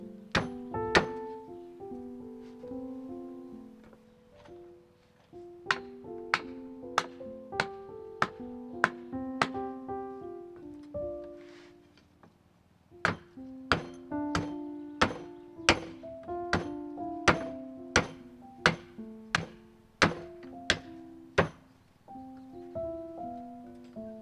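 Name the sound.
cutting wooden wedges for a house repair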